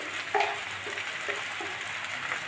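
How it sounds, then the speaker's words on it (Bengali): Okra and green peas with kasundi mustard sauté in a pan, giving a steady, fairly faint sizzle with a few soft stirring scrapes at intervals. "দিয়ে আমি একটুখানি হালকা মতো কষিয়ে নিচ্ছি।"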